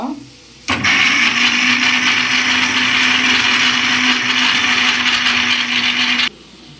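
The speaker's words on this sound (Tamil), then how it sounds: "தேங்காவை அரைக்கணும். தேங்காவை அரைச்சிடலாம்." A mixer grinder whirs loudly and steadily as it grinds coconut, starting abruptly after a short pause and running at an even high-pitched drone before cutting off near the end, close by with no voices.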